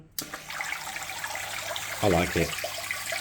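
Water sprays and splashes from the spray bar of a Swell internal aquarium filter, starting abruptly and continuing as a steady close hiss while someone speaks briefly over it.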